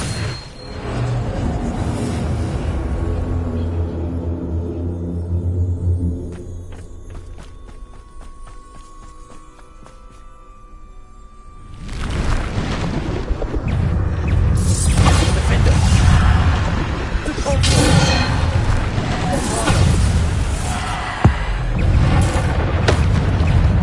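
A Bombarda blast spell from Hogwarts Legacy bursts amid busy combat, with thuds, whooshes and footsteps. A calmer tonal passage comes first, then loud chaotic action, and a sharp hit lands near the end.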